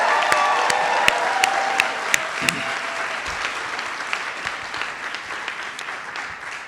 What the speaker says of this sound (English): One more round of applause to our graduates.